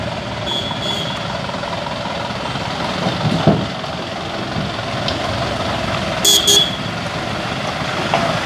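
Traffic on a worn road in Mapusa rolls by with a steady engine hum, broken by two short car horn toots, one early and one near the end.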